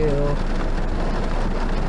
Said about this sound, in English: You hear it raining.